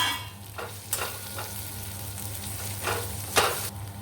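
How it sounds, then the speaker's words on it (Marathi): Ginger, garlic, chilli and fennel seeds stir-fried in a pan make a continuous close sizzle, broken by several scraping strokes of a spatula. "अद्रक लसूण मिरची व्यवस्थित चांगलं परतून घ्यायचं आहे"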